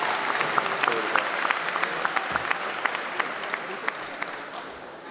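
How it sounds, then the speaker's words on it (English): A high school graduation crowd gives a round of applause for a graduate's parents: dense, sustained clapping from a large audience, with a few sharper claps standing out near the front. "I want to give them a round of applause"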